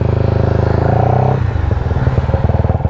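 A rebuilt Yamaha Y15ZR motorcycle engine revs hard with a steady harmonic whine, then drops back to a lumpy, uneven idle partway through, loud and close.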